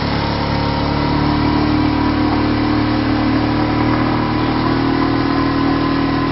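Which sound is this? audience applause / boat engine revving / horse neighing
boat engine revving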